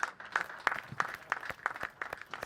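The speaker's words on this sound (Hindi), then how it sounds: "अगर आप सब ताली बजाते रहें" Rhythmic clapping from a modest audience at a Holi poetry gathering, claps landing roughly in time at a moderate volume.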